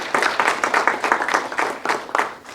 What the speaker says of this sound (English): I think Jan deserves a big round of applause.